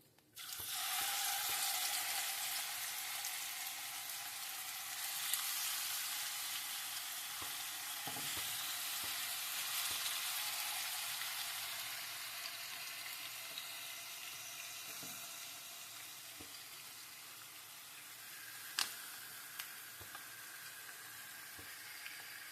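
Chicken pieces for chicken gongura fry in oil with bay leaf, giving a loud, even sizzle up close. The hiss slowly settles over the clip, broken by a few stirring clinks.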